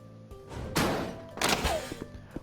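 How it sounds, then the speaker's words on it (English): Banging on a door in a horror survival video game, a few heavy thuds and knocks within a couple of seconds, close and alone. "whenever you hear a bang like that, or this person banging on the door"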